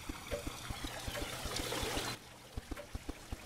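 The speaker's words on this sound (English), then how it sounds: "And the water started pouring." Water pours in the Roblox game as a steady, bright rushing stream that cuts off sharply partway through, set against a regular pattern of soft ticking game sounds, no speech.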